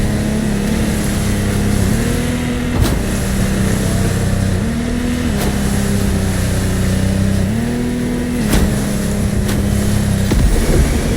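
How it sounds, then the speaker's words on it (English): A powerful offshore motorboat engine in The Crew Motorfest video game drones steadily and loudly, its pitch shifting up and down with throttle changes, occasional splashing thuds over the roar on turbulent sea. "This time we're going offshore with way bigger boats"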